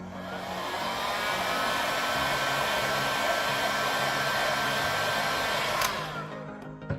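A hot-air tool blows onto the screen of an iPhone 13 Pro during a repair, a steady close whooshing hiss that holds evenly for several seconds before cutting off near the end.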